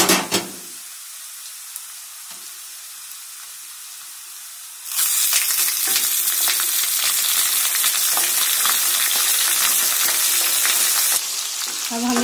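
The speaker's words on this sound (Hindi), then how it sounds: "अब हम इसको इसी तरह से 5 मिनट तक इसको फ्राई करेंगे।" Mutton hits a hot pan of fried onions and green chillies, and after a quiet start a loud, dense sizzle and crackle of frying bursts out and carries on steadily and close, with occasional stirring.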